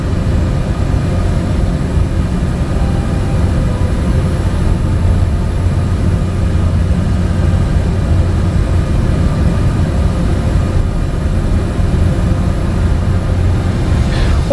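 A propeller aircraft engine in Microsoft Flight Simulator drones steadily and loudly for the whole stretch, a dense low rumble with no break and no talk over it.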